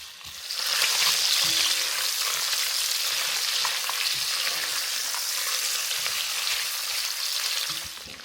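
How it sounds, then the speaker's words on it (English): Smoked sausage sizzles and crackles steadily in a pot as it browns to a crust, with occasional scrapes of stirring over a dense, close frying hiss. "I'm just gonna cook this up until it's got a little crust on all the smoked sausage"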